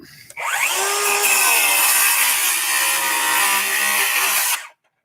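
A power saw cutting through wood during renovation of a 1974 house, starting abruptly and running as one loud, steady high-pitched whine for about four seconds before cutting off.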